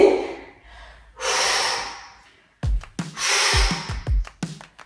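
Heavy breathing during oblique exercises, with loud, close inhales and exhales in long, rhythmic breaths, followed by sharper, snorting puffs of air.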